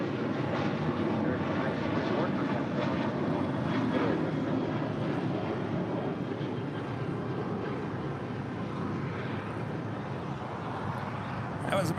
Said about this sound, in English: That was American Airlines flight 1924 heading to Las Vegas at the 737-800.